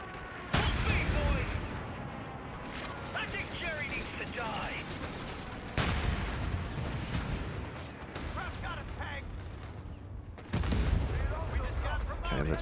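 Artillery and gunfire from an airstrike in the World War II strategy game Company of Heroes 3, set in Italy: loud booms at three points over continuous crackling battle noise, with people talking over it.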